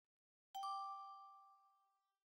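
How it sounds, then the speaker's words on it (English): A phone notification chimes once, a single bright two-note ding that rings out and fades slowly, faint and alone in otherwise quiet surroundings. "I'm hearing your phone."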